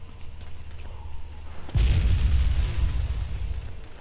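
A sudden heavy boom bursts in after a low rumbling backdrop, followed by a sustained loud roar of blast and debris noise from a cannon explosion in the video game Air Buccaneers.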